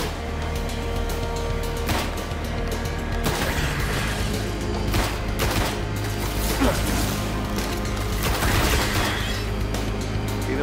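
Gunfire and heavy shooting in the sci-fi shooter Destiny during beta multiplayer combat, with dense overlapping shots and crashes running continuously over loud game music and mechanical noise, with no talking.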